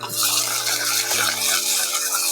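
Chilli powder with onions being stirred in a pan for a Jaffna-style dry fish curry, producing a close, continuous scraping, hissing stir with light sizzling and no talk.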